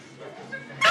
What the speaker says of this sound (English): because he's barking